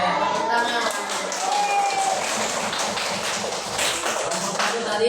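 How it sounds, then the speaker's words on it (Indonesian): A classroom of students clapping their hands together in dense, continuous applause that stays loud and even for the whole stretch, with a few voices mixed in. "Tepuk tangan."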